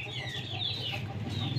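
Rooster at a backyard pet setup clucking softly and steadily at close range over a low background hum, with no talk.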